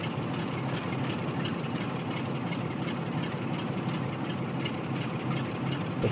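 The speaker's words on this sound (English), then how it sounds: "Open my window so I can hear the engine." A Class 47 diesel locomotive, 47562 Sir William Burrell working with 47454 on a nuclear train in Train Sim World 6, idles with a steady, continuous low rumble and mechanical hum, heard through an open cab window with no talking.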